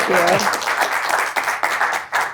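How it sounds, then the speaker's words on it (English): Audience applause at a leadership talk, a dense wash of clapping filling the room for a couple of seconds, with a brief voice cutting in at the start. "A big round of applause"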